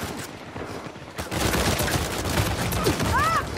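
Dense exchanges of gunfire from the action video game Uncharted 4: A Thief's End, starting sparse and quieter before turning into sustained, loud rattling bursts with scattered game effects on top.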